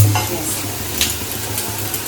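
Fish frying in a pan in a home kitchen, a steady close sizzle with light stirring and spatter throughout.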